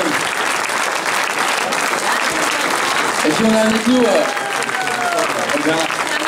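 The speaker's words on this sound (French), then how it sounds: "Deux grands champions, on peut applaudir." A crowd at the 100 km de Millau race applauds two champions with loud, continuous clapping, while someone speaks briefly over it.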